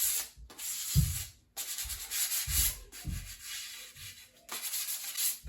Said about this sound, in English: We're just sanding the first layer.